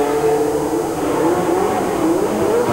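A historic dart-shaped Williams 06 Formula 1 car with a suspected gearbox failure pulls into the pits during a race at Magny-Cours, its engine droning steadily with rising and falling pitch, loud throughout.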